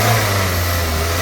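Car engine idling in a parking lot with a random multiple-cylinder misfire, P0300 fault, awaiting new spark plugs and four coils; a loud, steady close-up drone with a strong low hum and no talk.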